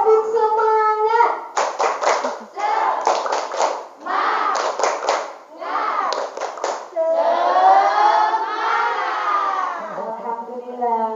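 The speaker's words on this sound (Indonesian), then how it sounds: "Tepuk semangat." Children perform tepuk semangat, a rhythmic spirit clap, in clusters of sharp, patterned claps alternating with loud group chanting, close and energetic, ending on a sustained shouted call.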